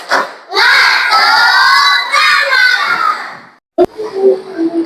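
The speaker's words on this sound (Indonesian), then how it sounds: "Tepuk semangat." Classroom children shout the rhythmic 'tepuk semangat' chant together with claps, loud and close, then a brief pause and a few more voices afterward.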